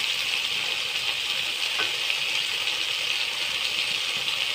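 Ground spices with green chilli paste sizzle and fry steadily in a pan for an egg curry, a constant close hiss with light rattling and no talk.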